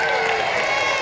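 A castle jousting tournament crowd at Warwick Castle gives a brief burst of cheering and applause, a dense, steady wash of clapping and voices heard from among the spectators.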